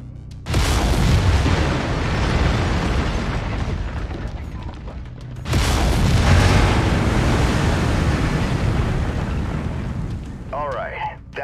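A mech in MechWarrior 5 fires its lasers in two long, loud, roaring bursts. A brief pause separates them, and faint tonal chirps come at the end.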